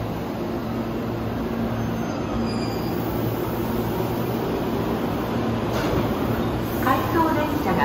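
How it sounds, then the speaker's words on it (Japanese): An out-of-service Tobu 10050 series train pulls out of Kita-Senju Station with a steady rumble, a squeal of wheels rising near the end, and a background Japanese announcement warning of the departing out-of-service train. "回送列車が発車します。"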